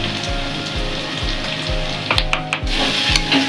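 Eggs fry in coconut milk as salt, turmeric and chilli powder are stirred in, a loud close sizzle broken by repeated spoon scrapes against the pan.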